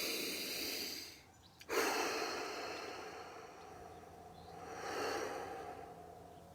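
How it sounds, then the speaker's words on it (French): A person takes a slow, deep breath in during a guided breathing exercise, close and soft, with a brief sharp sniff partway and a second swelling inhale later, no talking. "On inspire."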